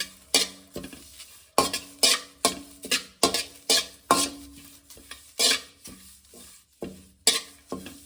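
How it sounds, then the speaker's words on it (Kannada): A handful of curry leaves roasting in a pan, stirred with a spatula in a quick series of scraping strokes over a soft, dry sizzle, close and clear with no talk. "ಒಂದು ಹಿಡಿಯಷ್ಟು ಕರಿಬೇವಿನ ಸೊಪ್ಪು, ಇದನ್ನು ಕೂಡ ನೀಟಾಗಿ ಈಗ ರೋಸ್ಟ್ ಮಾಡ್ಕೊಳ್ಳಿ"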